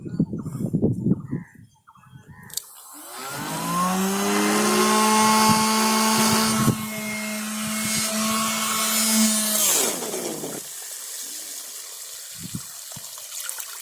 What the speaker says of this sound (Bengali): দুইটা সোলার 80 ওয়াট সোলারের সঙ্গে কানেক্ট করা মাত্র মোটরটা কিরকম ফোর্সে ঘুরছে, এটার শব্দ শুনে আপনারা আন্দাজ লাগাতে পারছেন